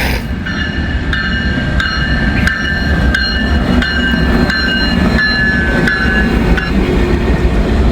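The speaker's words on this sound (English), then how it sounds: "Biggest train I've ever seen." A long freight train passes close by in Muncie, loud and steady. Wheels clack in a regular rhythm over rail joints and a thin metallic squeal rides above the rumble throughout.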